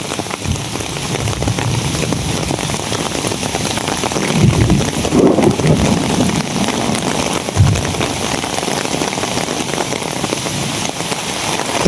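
Sudden heavy rain pours down in a dense, loud, continuous roar on surfaces nearby, with gusty wind noise swelling midway and no voices.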